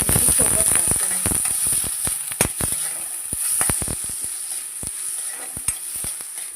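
Onion and green chilli fry in a little hot oil for a simple finely chopped fenugreek leaf bhaji, a steady loud sizzle broken by frequent clattering spoon strokes against the pan.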